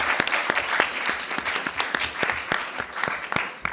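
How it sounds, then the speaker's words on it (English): Applause from an audience at an academic interdisciplinary research event, a steady crowd clapping with distinct sharp hand claps standing out near the microphone throughout. "Applaud, please."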